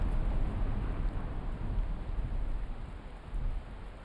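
Steady, dense thunderstorm rain in Valheim, a broad unbroken wash of noise with a low rumble underneath, loud and constant throughout with no voices.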